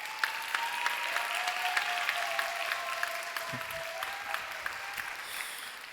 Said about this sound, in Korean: 앞으로 박수로 우리 윤미 환영할까요?